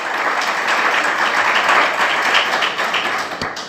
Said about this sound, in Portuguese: Você pode aplaudir o Senhor por isso nessa noite?